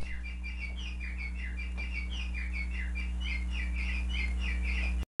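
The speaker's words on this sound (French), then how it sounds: "Hey, tu entends ces oiseaux?" Birds chirp in quick repeated bursts at about seven in the evening, a steady series of bright tweets over a constant low electrical hum, ending abruptly with a brief cutoff.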